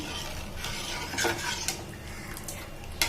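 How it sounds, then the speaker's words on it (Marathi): A spoon stirs thin, boiling Konkani-style shev bhaji curry in a pot over a high gas flame. A steady bubbling hiss runs under scattered scraping clicks of the utensil against the pot, close and continuous. "चांगली हलवू चांगलं हलवून घ्यायचं आणि चांगली उकळी येऊन द्यायची"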